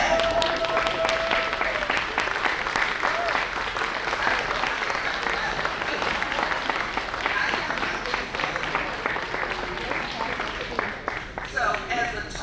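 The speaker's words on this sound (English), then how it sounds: "Just stand up and act like all of a sudden everybody in the room just decided to stand and clap." Standing ovation from a room full of people at an annual spring high school gala, a dense, steady roar of clapping lasting throughout, close and loud, with some talk and murmur mixed in and thinning slightly at the end.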